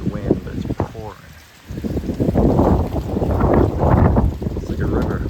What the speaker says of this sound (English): I don't know if you can hear the rain over the wind, but it's pouring.